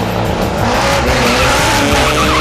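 Drag racing cars at Great Lakes Dragaway, including an LS1-powered car, roar continuously at close range, a loud dense engine and tire rush with no pause for the whole stretch.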